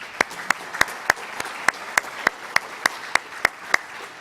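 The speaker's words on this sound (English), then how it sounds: "Let's have another round of applause for the students" Steady applause from an audience at a high school graduation ceremony, punctuated by sharp, evenly spaced louder claps cutting through every third of a second.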